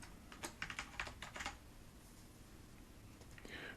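Close, quiet typing on a computer keyboard: a short flurry of soft key taps in the first second and a half, then near silence with faint room hiss.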